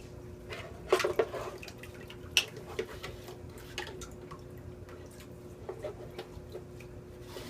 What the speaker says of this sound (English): I'm going to throw my sponges in here.